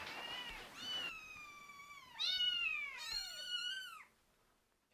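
Several cats meow in an animal shelter housing about forty cats, a series of clear, close, rising and falling calls that overlap with brief pauses, no talking.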